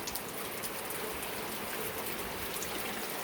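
Steady rain falls outside beside a countryside cottage, a soft, even hiss with faint scattered drops, continuous and fairly quiet, with no voices.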